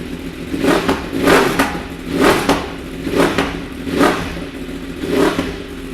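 A 2015 Yamaha R1 sport bike fitted with a Scorpion exhaust, de-catted, starts up and is revved in roughly five sharp, close, loud blips that rise and fall over a steady idle.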